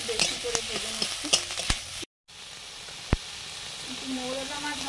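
Onions fry in a pan with a steady close sizzle, broken by several sharp stirring clinks and scrapes and a brief gap in the sound.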